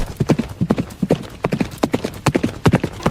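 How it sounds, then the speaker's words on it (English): Several horses' hooves clip-clop on hard ground as riders set off in a dark fantasy audio drama, a quick, loud, uneven beat of close strikes that runs on steadily with no voices. "Mounting our horses,"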